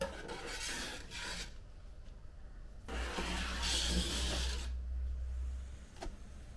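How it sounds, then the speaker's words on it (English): A scraper rasping rust off metal in repeated long strokes, each a gritty, fairly close scraping burst with brief pauses between, heard alone without speech. "I'm going to now scrape that off and then put some more on this side."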